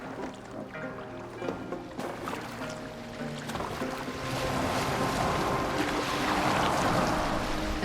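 A boat moving over water in Assassin's Creed Valhalla, with steady wash and lapping waves that grow louder and fuller partway through, plus faint creaks and wind, and no talk.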